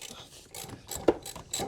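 A ratchet wrench fitted with a 9/16 socket works on the drag link of a Craftsman/Husqvarna riding mower, giving a few quick, close mechanical clicks over roughly two seconds.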